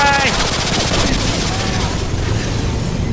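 Rapid automatic gunfire and heavy shooting in the Call of Duty Modern Warfare 2 campaign, a dense continuous barrage filling the whole stretch, with voices talking over the battle.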